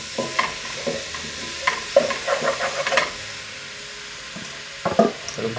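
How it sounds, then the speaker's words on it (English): Jamaican curried shrimp is stirred in a pot, giving scraping spoon clicks in uneven bursts over a soft sizzle, close and moderately loud, with a quiet gap before a final flurry of stirring. "add this to our pot. All right, keep stirring it."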